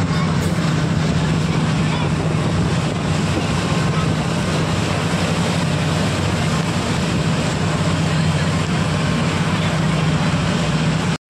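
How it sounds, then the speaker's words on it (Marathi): Boat on a trip along the Konkan coast, the engine holding a steady low drone under heavy wind rush and water noise, running continuously and cutting off abruptly at the very end. "गाईज, आम्ही आता बोटीत चढलो आहे. बघू शकता आता बोट चालू झालेली आहे."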